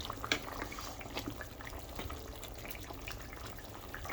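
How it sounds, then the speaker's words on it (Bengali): A thin hilsa fish curry with stems simmers in a pot, giving a steady soft bubbling and hiss at moderate distance with no talking. "পাতলা ঝোল রান্না করছি"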